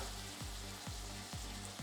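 Chopped tomatoes and chilli powder with a little water sizzle quietly in a pan over a medium flame for a soya pepper fry masala, with soft, evenly spaced stirring scrapes about every half second.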